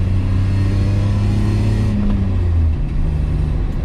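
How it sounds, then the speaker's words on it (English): BMW E34 535i with a custom straight-pipe exhaust, a loud, close engine droning and rumbling steadily, rising and falling slightly in revs. "Hear that custom exhaust?"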